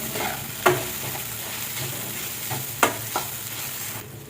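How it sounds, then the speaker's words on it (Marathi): Grated coconut and poppy seeds roasting in ghee while being stirred, with a soft steady sizzle and a few sharp scrapes of the spoon against the pan, close and fairly quiet, no voices. "आता हा छानपैकी आपल्याला तुपामध्ये परतून घ्यायचं।"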